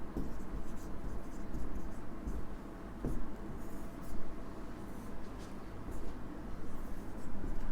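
A pen scratches steadily across a paper page, a continuous close scraping with small strokes and pauses, fairly quiet and heard on its own without voices.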